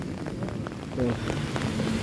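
Heavy rainwater rushes through a flooded street in Mecca, making a steady, dense wash of noise that runs without a break through the whole moment.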